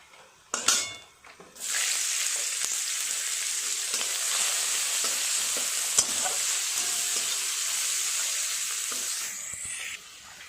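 Chopped onions fry with whole spices, a chilli and a bay leaf for a chicken curry, making a loud, steady sizzle that runs nearly unbroken after a clattering start, with occasional stirring scrapes before it cuts off near the end.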